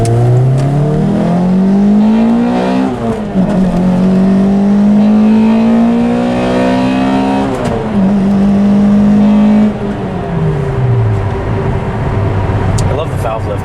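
A Pontiac Vibe GT with a 2ZZ-GE engine and modified exhaust revs hard on a winter test drive, climbing in pitch through repeated pulls toward high RPM, with gear changes dropping the tone before it rises again; loud and close from inside the car.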